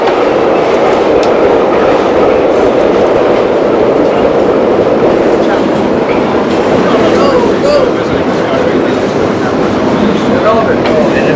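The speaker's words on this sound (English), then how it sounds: "Crossing in front of us, you'll see a Myrtle Avenue line train from Metropolitan Avenue" A New York subway Myrtle Avenue line train passes close by, a loud, steady rumble with rhythmic clatter of wheels over rail joints and faint squeals throughout.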